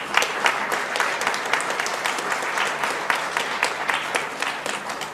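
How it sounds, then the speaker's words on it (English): An audience at a forestry announcement breaks into applause, a dense, steady burst of many hands clapping that holds at an even level for several seconds. "I think that deserves a round of applause."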